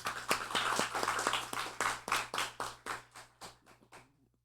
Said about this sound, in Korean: 우리 다시 한번 격려의 박수 부탁드립니다